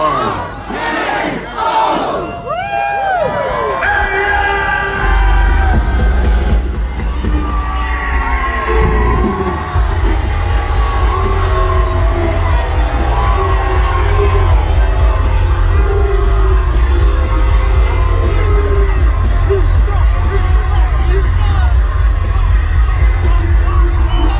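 A WWE press conference crowd yells and boos loudly and continuously, with shouts and whoops layered into a dense roar that swells early and holds at full volume throughout.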